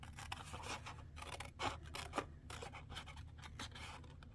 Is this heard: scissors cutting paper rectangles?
yes